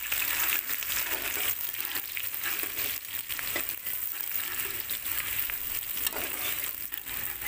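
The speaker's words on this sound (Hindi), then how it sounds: "इसमें हम कटे हुए प्याज डालेंगे।" Chopped onions, two small to medium, frying in oil left over from frying aubergines for a spicy salan. A steady, close, crackling sizzle runs throughout with no talk.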